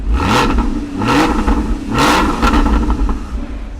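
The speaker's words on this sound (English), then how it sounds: "That flat six sounds so good." A 2016 Porsche Boxster Spyder's flat-six engine revs loudly three times in close succession, each sharp climb easing back to a throbbing idle, with no voices over it.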